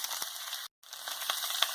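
Steady sizzling of chopped tomatoes and vegetables sautéing in a pan, with a brief gap of silence partway through and faint stirring clicks.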